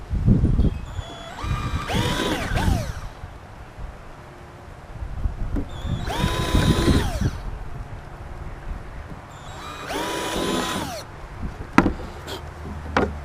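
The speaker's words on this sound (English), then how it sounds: "Pre-drill these real quick." A power drill pre-drilling screw holes whirs in three short bursts, each spinning up, holding briefly, then winding down, with quiet handling noise and bumps between them.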